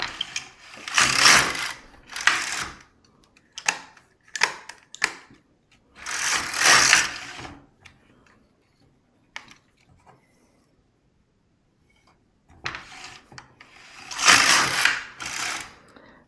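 A Brother LK150 knitting machine carriage sweeping across the needle bed in several loud, close, rattling passes of one to two seconds each, separated by quiet pauses, with no talking.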